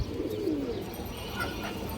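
A female pigeon gives a low, soft coo nearby, brief and gentle, with faint background noise around it.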